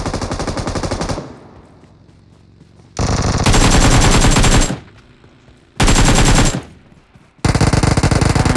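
Long bursts of automatic gunfire in a shooting video game, loud and dense, separated by quieter gaps with ambient game sound; no talking.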